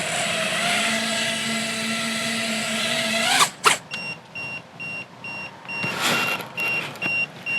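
FPV drone motors spin up on a first flight attempt in a high, steady whine that holds for a few seconds, then cuts out abruptly, leaving short sputtering bursts and quieter motor revs.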